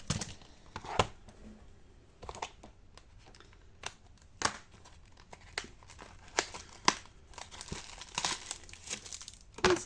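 Plastic packaging of Easter figurines being torn open and crinkled by hand, with irregular bursts of crackling and rustling spread across the whole stretch, fairly close and alone without talk.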